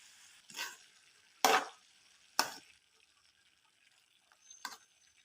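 A spoon stirs vegetables frying in a pan for hotel-style vangibath with grated coconut, tomato and coriander: four short, separate scraping strokes spaced over quiet gaps, close and fairly soft, no voices.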